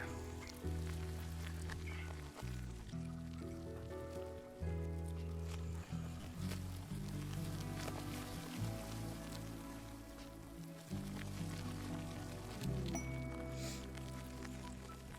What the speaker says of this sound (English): Boy, when it rains, it pours, don't it?